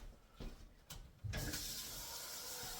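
Water pours into a rice cooker pot of white rice after a couple of faint knocks, turning into a steady splashing fill that runs to the end.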